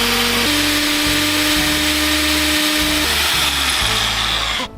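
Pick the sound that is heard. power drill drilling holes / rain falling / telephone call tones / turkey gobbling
power drill drilling holes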